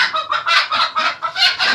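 A flock of chickens clucks loudly and continuously nearby at feeding time, a busy overlapping chatter in quick repeated bursts.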